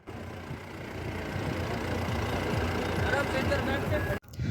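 Jeep engines rumbling steadily as the vehicles drive across the sand of the Thar desert near Jaisalmer, Rajasthan, a continuous mid-level drone that builds slightly before cutting off abruptly.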